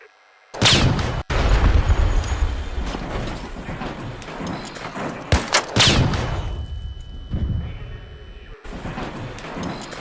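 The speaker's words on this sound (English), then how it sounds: "Do fuse grenades go off that quick?" Fuse grenades detonate in the shooter game Arc Raiders: a few heavy, booming blasts spaced several seconds apart, each followed by rumbling debris over a noisy, continuous battlefield background.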